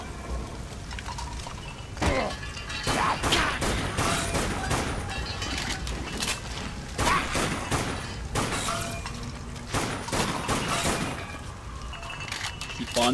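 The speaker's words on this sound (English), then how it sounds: "we're gonna use our pistol for now" Pistol fire in the zombie game Dead Nation, on a downtown stage: sharp shots crack out in quick irregular bursts over a busy bed of game noise, with someone talking over parts of it.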